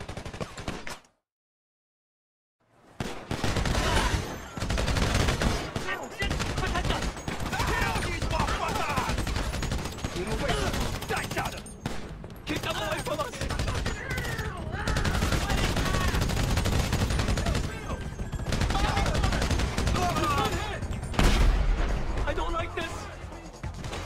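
Loud, dense gunfire in a close-range shootout, with rapid overlapping bursts and crashes running almost continuously after a brief silent gap, shouting voices mixed underneath.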